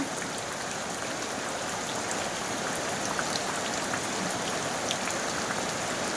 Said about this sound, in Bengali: হঠাৎ মাত্র এত জোরে বৃষ্টি আসলো